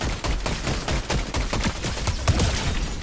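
Dense, continuous gunfire in a Fortnite match, a loud rattling stream of shots packed close together with no pauses, crowding the whole short stretch.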